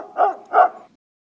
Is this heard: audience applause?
no